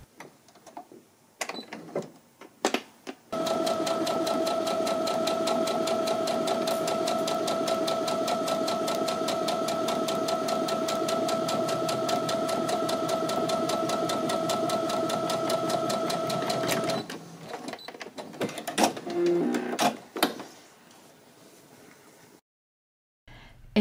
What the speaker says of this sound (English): And so here I am sewing in all of those darts.